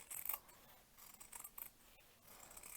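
Scissors snip excess fabric from around an embroidery hoop, giving a few quiet, close, crisp cuts in quick succession.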